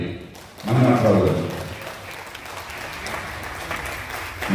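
Applause from an audience at a Kannada cultural celebration, a silver jubilee event, honoring performers. Clapping swells sharply after a brief lull and then holds steady and dense, with a voice carrying over the start.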